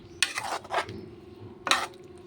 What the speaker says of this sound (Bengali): এখন মিশিয়ে নেব।